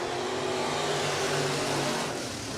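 SportMod race cars powering away at the start of a race at Raceway Park, a dense blended engine roar at steady loudness, heard from a distance without individual cars standing out.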